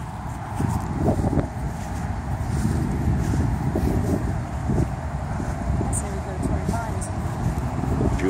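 Steady gusty wind buffeting the microphone outdoors in San Diego, a constant loud rumble throughout with faint scattered sounds beneath it.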